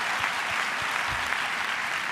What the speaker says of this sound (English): the professors stand outside and wait for you to come inside so that we can applaud